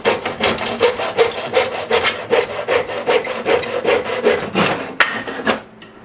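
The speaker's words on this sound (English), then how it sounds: "why not use a handsaw at 100-degree weather?" Handsaw cutting wood in hot weather, a steady run of rasping back-and-forth strokes, close and loud, roughly two strokes a second, ending with a brief stop.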